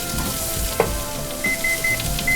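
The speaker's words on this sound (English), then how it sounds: "let's cook the papaya first" Diced papaya sizzles and fries in a hot pan, a steady close crackle with a brief clatter and a few repeated timer beeps near the end.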